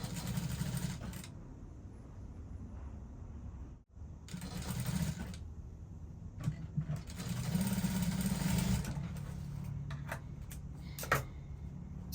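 A sewing machine runs in several bursts while stitching the lining of a bustier dress, close and even, with brief pauses, fabric handling and a sharp click between runs.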